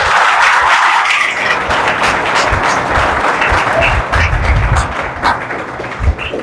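Loud, dense applause from an audience at a Hindi-language Christian sermon for seminarians, sustained and steady throughout with scattered sharper claps near the end.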